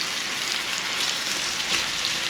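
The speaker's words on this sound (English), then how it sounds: "A sizzle there, mate." Two salted lamb racks sizzle steadily in a hot pan, a dense, hissing crackle heard up close and alone at a constant moderate level.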